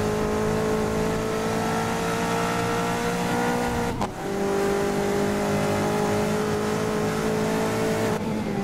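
A race car engine in the video game GRID 2019 holds a high, steady rev in fifth gear, with a brief dip as the throttle eases off near the middle before the whine picks up again.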